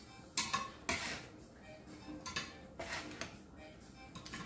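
Freshly baked chocolate chip pecan cookies lifted off a metal baking pan, with scattered scraping clinks and light knocks of a spatula against the pan, close and fairly quiet, no speech.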